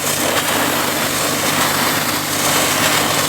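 A pressure washer runs loud and close, a steady high engine whine mixed with the broad hiss of a water jet spraying, continuous and unbroken throughout.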